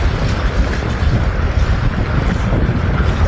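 Strong wind roars across the microphone outdoors in Halifax, a loud, constant broadband buffeting with no pauses, swamping everything else.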